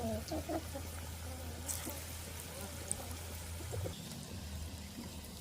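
Chickens in a village cluck softly nearby over a steady low hum, with scattered brief calls and occasional background noises.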